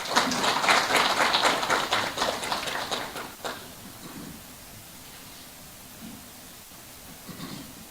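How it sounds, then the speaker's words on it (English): Audience applause at a public lecture on dealing with corruption in Malawi, a dense patter of clapping that fills the room for about three seconds and then fades into quiet room noise with faint distant sounds. "Another round of applause for her, please."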